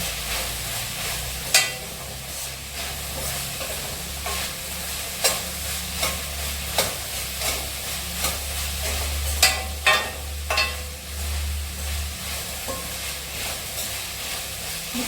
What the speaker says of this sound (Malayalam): സവാള നന്നായിട്ട് വഴങ്ങി ഹാഫ് കുക്കായിട്ടുണ്ട്